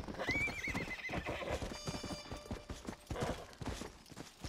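A horse in the video game Red Dead Redemption gallops with steady clip-clop hoofbeats, then lets out a clear, high whinny, with the hooves continuing rhythmically throughout at modest volume.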